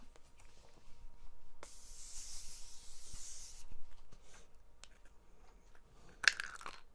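A setting spray misted from a small pump nozzle gives a soft, breathy hiss lasting about two seconds, close and fairly quiet, followed later by a brief sharp click.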